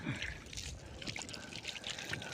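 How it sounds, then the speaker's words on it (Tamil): Water pours and trickles steadily over hands being washed outdoors in a village kitchen setting, a close, continuous splashing stream with no talk. "கையை கழுவிக்கலாங்க"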